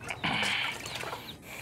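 Backyard pet chickens cluck continuously at close range, with overlapping throaty calls and a few sharper squawks.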